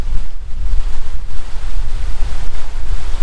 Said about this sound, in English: this waterfall here, the water is spraying up from the rocks underneath